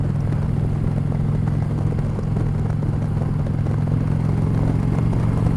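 An Indian Chieftain motorcycle on a test ride, its engine giving a steady, dense mid-pitched drone with wind noise, continuous and close without pauses.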